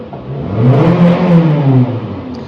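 A car engine revs up and eases back in one swelling roar while people work on cars at a house nearby, close and loud, with no talking.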